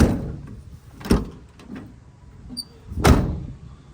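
A repaired door handle on a 2001 Mazda B3000 pickup is worked, giving two sharp mechanical clunks about two seconds apart, close and clear, with quieter handling noise between.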